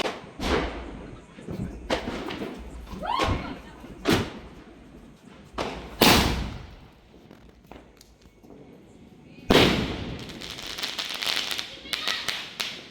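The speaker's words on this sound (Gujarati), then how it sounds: "અમારા માસી પેલું મીડિયમ સાઇઝનો જે સ્કાય શોટ છે એ ફોડી રહ્યા છે" Medium-size sky shot fireworks go off during Diwali celebrations, sounding as a string of sharp bangs and thuds spaced irregularly, some loud and close, others softer, with voices faintly present between blasts.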